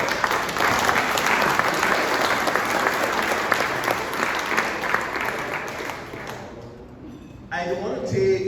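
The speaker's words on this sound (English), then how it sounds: "Please round of applause for yourself." Sustained applause from a crowd at a golf tournament awards reception, loud and steady, fading out near the end before a voice begins speaking.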